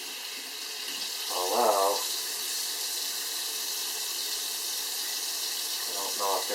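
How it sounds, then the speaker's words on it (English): Tap water running over a giant puffball mushroom in a sink, a steady hissing stream, with brief speech at the start and end. "So we're going to rinse it and see what happens here."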